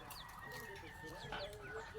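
Chickens cluck softly and fairly close by, with several short overlapping calls over low background noise and a voice speaking faintly.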